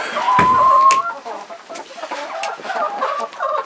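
Hens cluck and squawk close by in a coop, a burst of sharp calls at the start followed by steady, irregular clucking throughout.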